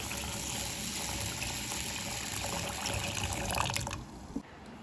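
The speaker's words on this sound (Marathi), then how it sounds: "पहिला स्वच्छ पाण्याने धुवून घ्यायचं आहे" Basmati rice washed in clean water: a close, continuous sloshing and trickling of liquid, swelling slightly before a soft knock and a quieter tail, with no talking.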